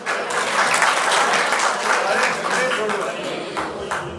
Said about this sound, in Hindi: ताली तो बजा दी आपने